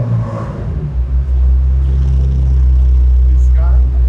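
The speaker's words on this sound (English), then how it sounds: "This car makes stupid noises like this." Twin-turbo Lamborghini with eight exhaust tips rumbling loudly up close, a deep sustained engine drone swelling after a short dip, with voices talking over it.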